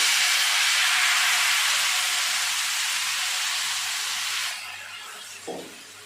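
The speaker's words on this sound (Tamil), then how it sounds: "தோசை ஊற்றிட்டேன்." Ragi rava dosa batter poured onto a hot oiled griddle, a loud, steady broad sizzle close up that gradually eases and quiets, with a brief clink near the end.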